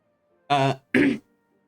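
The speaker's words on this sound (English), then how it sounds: "You hear coughing around you." Two short coughs from someone nearby in a burned, laid-waste town, the first throaty and voiced, the second rougher and breathier, with quiet gaps around them.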